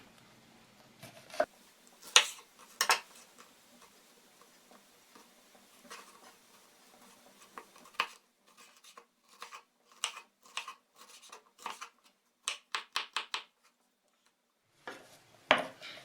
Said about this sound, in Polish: paprykę pokroję a no takie niewielkie kawałeczki.